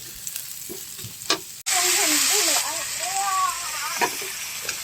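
Onion and garlic frying in a pan, stirred with a utensil: a few clinks, then a loud sudden sizzle that settles into steady frying with scraping stirs, close up.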